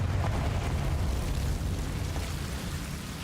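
A Confringo blasting spell explodes in the Hogwarts Legacy video game, a dense, rumbling blast with heavy low-end roar that sustains and slowly fades over a few seconds.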